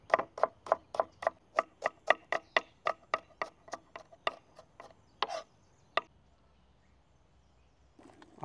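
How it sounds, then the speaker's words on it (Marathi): Onions being finely chopped with a knife on a board for a Vidarbha-style khardā chicken, a fast, steady run of about twenty sharp close chops that thins out and stops, followed by near silence. "आपण आता कांदे बारीक चिरून घेऊ"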